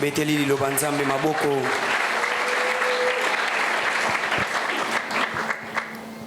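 A church congregation applauds in a sustained, dense wave of clapping that swells after a spoken and sung passage and continues steadily for several seconds before tapering, with voices still audible underneath.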